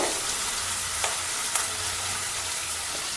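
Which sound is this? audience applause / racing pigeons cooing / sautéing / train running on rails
sautéing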